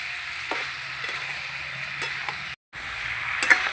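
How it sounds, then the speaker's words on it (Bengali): Vegetables with spice paste sautéing in a pan for jackfruit curry give a steady hissing sizzle with a few soft spoon taps, broken by one brief moment of silence midway. "খুব ভালো করে আমি কষিয়ে নেব।"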